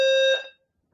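An indoor fire alarm sounds a loud, shrill electronic tone for about half a second and then cuts off into silence. No voices are heard.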